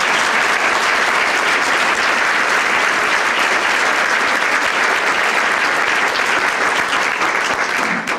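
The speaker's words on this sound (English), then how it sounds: "Let's give them a round of applause." A large conference audience at the Fourteenth Educational Trust National Conference bursts into loud, dense applause that holds steady and continuous for about eight seconds.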